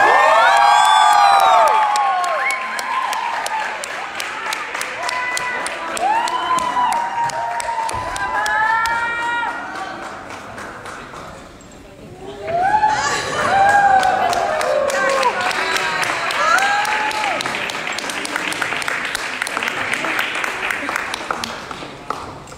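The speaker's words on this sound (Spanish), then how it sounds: "Fuerte el aplauso para recibir en este escenario" Audience at a stage tribute honoring Susana Dosamantes's 50-year acting career greets Paulina Rubio with loud, sustained applause, cheering and whoops, dipping briefly midway before swelling again, with shouted voices throughout.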